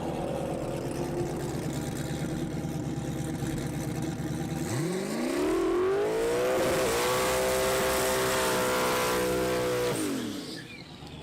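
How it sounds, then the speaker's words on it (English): A car doing a burnout: the engine rumbles, then revs sharply and holds a loud, rising, sustained wail for about five seconds before dropping off abruptly. "Watch this, like my first burnout of the day."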